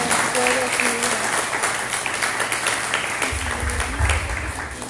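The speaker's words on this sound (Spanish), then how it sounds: "vamos a dar un fuerte aplauso de bienvenida" Applause from a church congregation welcoming returning members, a dense steady wash of clapping filling the room, with a voice speaking over it near the start and a low rumble joining toward the end.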